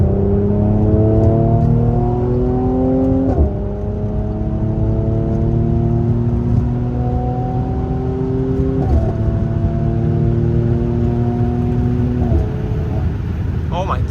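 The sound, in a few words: Mercedes-AMG C43 W205 engine revving and accelerating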